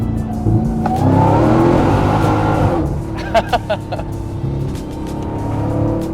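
Dodge Demon 170 with a supercharged V8 launched hard, its engine roaring as the tires break loose and squeal, followed by short bursts of revving, with voices talking underneath.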